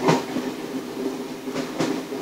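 A passenger train runs along its rails, giving a steady low rumble with a few sharp clacking bursts from the wheels over rail joints, heard close from on board.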